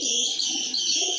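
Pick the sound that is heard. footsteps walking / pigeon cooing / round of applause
pigeon cooing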